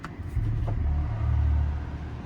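The start-up sound of a BMW i4 M50 electric car, composed by Hans Zimmer, plays as a deep, swelling low hum that builds and holds for a couple of seconds, close and fairly loud without talking.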